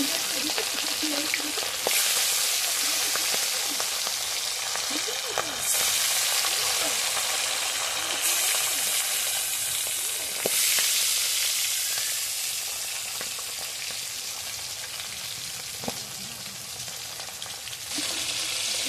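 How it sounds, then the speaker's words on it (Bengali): Steady, loud sizzling of fish frying in hot oil, with bursts of crackling spatter that swell and fade throughout. "একটু তেল দিয়ে মাছগুলোকে ভাজা ভাজা করে নেব"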